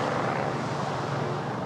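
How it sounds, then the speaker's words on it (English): A helicopter circles over Bondi Beach, its steady rotor and engine drone filling the air as a constant, loud wash of noise with no talk over it. "We've got the helicopter circling."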